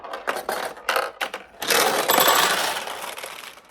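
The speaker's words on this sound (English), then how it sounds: "So that's how certainly a Nishijin Model B works." A vintage Nishijin Model B "Blue Back" pachinko machine runs its balls, with a few separate metallic clatters followed by a longer dense rattling cascade, close and without talk.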